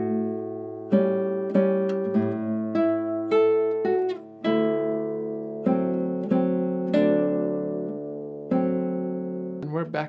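Classical guitar plays an arpeggio passage from João Pernambuco's Sons de Carrilhões, with a bass on the sixth string under ringing fretted notes on the upper strings, steady and close with no voices.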